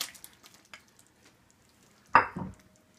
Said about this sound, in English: I'm gonna add the jumbo shrimp